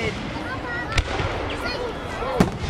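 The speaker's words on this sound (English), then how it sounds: "The professional fireworks are called mortars" Professional firework mortars launch outdoors, giving two sharp, distant thumps about a second and a half apart over steady crowd chatter and background noise.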